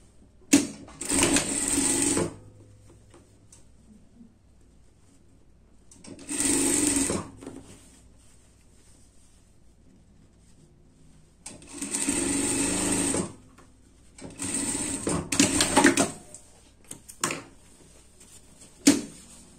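A sewing machine stitching an Easter dress runs in several separate close bursts of rapid mechanical whirring, a few seconds each, with quiet gaps and handling clicks between them.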